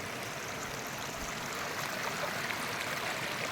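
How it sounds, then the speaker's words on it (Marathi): A small stream flows steadily with a soft, continuous rushing and trickling, close by and unbroken throughout. "हा बघा हा छोटा झरा आहे"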